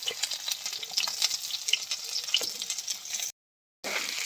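A spice paste fries in oil in a pan, giving a close, continuous crackling sizzle with a few small pops. The sound drops out for a brief moment near the end.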